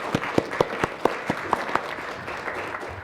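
Sparse applause at a People Power Party symposium on carbon neutrality and the constitution, heard as a handful of distinct, separate claps from a few people. The claps thin out into quiet room tone.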